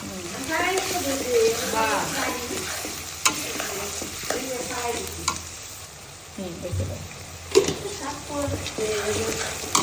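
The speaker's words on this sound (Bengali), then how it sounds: "এখানে পরিমাণ মতো পেঁয়াজ দিয়ে দেওয়া হলো পেঁয়াজগুলোকে সুন্দর করে বাদামি করে ভেজে নিতে হবে" Onions fry in a pan for a beef tripe curry, giving a sizzle under a voice that talks now and then, with sharp clatters of a utensil stirring and scraping the pan.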